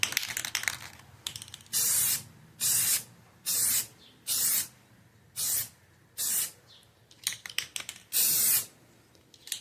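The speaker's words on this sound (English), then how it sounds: "I'm about to spray over this, and so the lettering will be white" Several bursts of spray paint hissing from a can onto a mountain bike, each about a second long with short quiet gaps between, close and fairly loud.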